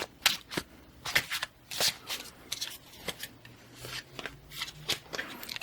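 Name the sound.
tarot cards being shuffled and pulled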